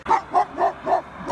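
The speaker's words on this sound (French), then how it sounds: "Désolée pour le bruit du chien." A neighbour's dog barks four times in a steady rhythm, each bark short and mid-pitched at moderate distance, with no talking over it.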